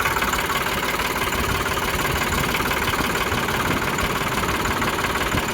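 A New Holland 3600 tractor diesel engine idles steadily at close range, a loud continuous rumble with an even knocking beat and no voices over it.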